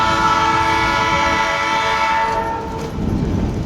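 A Colorado gorge tourist train rumbles loudly and continuously close by. Steady horn-like tones ring over the heavy rolling noise of the cars.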